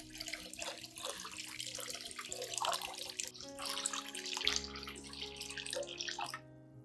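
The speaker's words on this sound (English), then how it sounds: "I'll dilute the solution with about 500 milliliters of clean water" About 500 milliliters of water splashes and pours steadily into a container to dilute a houseplant solution, with a rising trickling tone as it fills.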